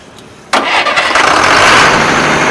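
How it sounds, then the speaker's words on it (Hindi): An 82 kVA open generator with a Tata 6-cylinder diesel engine cranks and fires up after a brief quiet moment, then settles into a loud, steady diesel rumble close by. "आइए हम इसको स्टार्ट करके दिखाते हैं।"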